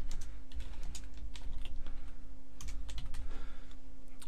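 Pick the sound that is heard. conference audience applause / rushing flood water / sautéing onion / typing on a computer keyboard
typing on a computer keyboard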